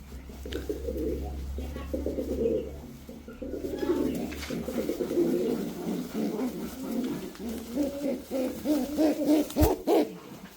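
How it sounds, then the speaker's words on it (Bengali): Pigeons kept inside a bag coo continuously in low, throaty repeated hoots, close and clear, with brief voices talking in between. "এই যে দেখুন পায়রাগুলো।"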